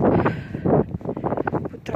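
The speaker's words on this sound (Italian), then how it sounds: "c'è vento, c'è abbastanza vento" Gusty outdoor wind buffets the microphone in uneven, rumbling bursts that rise and drop across the short stretch.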